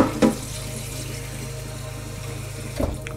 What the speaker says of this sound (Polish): wleję trochę wody